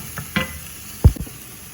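Beetroot leaves and onion stirred in a frying pan give a few scraping spoon strokes over faint sizzling, with one louder clunk midway.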